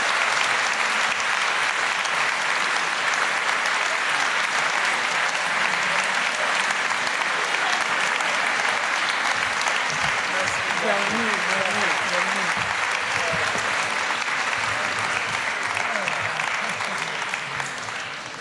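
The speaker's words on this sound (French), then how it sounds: "Et de l'applaudir encore plus fort" Loud, sustained applause from a large audience welcoming writer Alain Mabanckou at the Livre sur la Place book fair, steady and dense throughout, with faint voices and whistles rising under it midway and a slight fade at the end.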